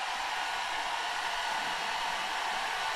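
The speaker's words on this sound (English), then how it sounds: "let's add this hair dryer on the maximum, the highest mode." Hair dryer on its highest setting, powered from a Bluetti portable power station, gives a steady, loud, unbroken broadband whoosh that fills the whole stretch with no speech.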